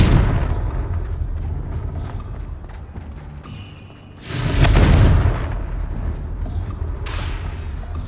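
A Confringo spell bursts in the Hogwarts Legacy video game, a loud booming explosion that swells mid-clip over a dense, rumbling game soundscape before fading back to steady background noise.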